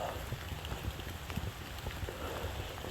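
Steady rain falls through the forest on a hike along the Nalley Brown trails, a dense pattering hiss of drops on leaves and ground, close and continuous with no talking.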